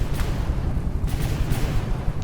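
Ship cannons firing armor-piercing shells in the naval combat game From the Depths, heard as a dense rumbling barrage with several sharper booms over continuous low battle noise.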